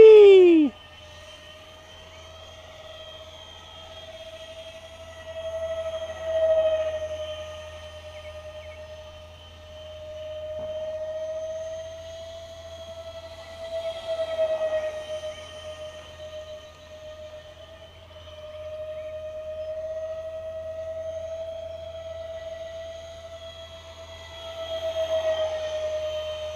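Model airplane, a Bird of Play on its maiden flight, drones steadily overhead with a sustained electric motor whine that swells and fades as it circles, near and fairly loud with no talk.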